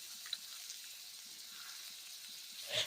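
Oats and green pea fritters fry gently in butter over low heat, a soft steady sizzle running throughout with a faint clink near the start and a louder scrape or stir at the end.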